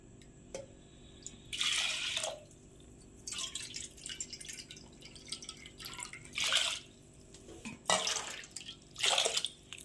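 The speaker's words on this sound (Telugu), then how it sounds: "ఇప్పుడు ఇందులోకి వాటర్ని యాడ్ చేసుకుందాం" Several short bursts of water splashing and pouring into a pot of lentils for dal, separated by quiet pauses, close by and fairly soft.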